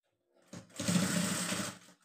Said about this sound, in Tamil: ஃபர்ஸ்ட் வந்து பேக் ஸ்டிச் வந்து போட்டுட்டேன்